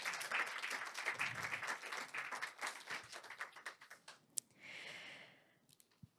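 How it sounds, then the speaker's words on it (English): A round of applause from the audience at an award ceremony, a dense patter that thins into scattered claps and fades, then a brief breathy rustle and a few last isolated claps. "Everyone, please give Ms. Lee and Ms. Park another big round of applause."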